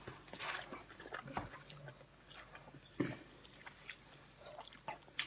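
Close, quiet chewing and biting on food during a Yoshinoya mukbang, with soft crunchy and squishy bites at irregular intervals.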